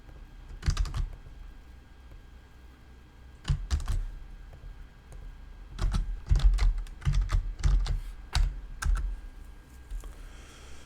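A file path is typed on a computer keyboard in short bursts of fast, close key clicks separated by pauses, with a denser run of keystrokes near the middle and no talking.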